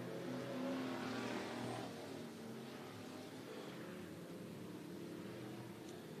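Street stock race cars run hot laps on the dirt oval at Cottage Grove Speedway in Oregon, a faint, distant engine drone that swells briefly early on, then settles into a steady rumble with no talk.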